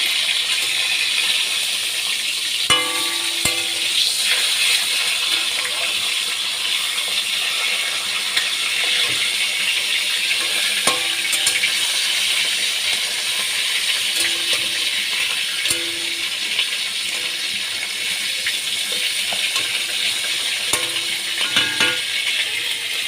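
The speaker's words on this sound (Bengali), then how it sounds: "কাতলা মাছের মাথা আমি ভালো করে ভেজে নিচ্ছি" A katla fish head fries in hot oil in a pan, giving off a steady, bright sizzle close by. Faint metallic clinks and scrapes from handling break in now and then, and there is no talking.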